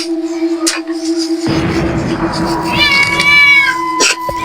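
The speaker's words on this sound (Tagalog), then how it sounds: "may pusa pa" A cat meows loudly and close by during an outdoor night meal, giving a drawn-out meow in the middle over a steady electrical hum and some clatter, with a voice speaking briefly.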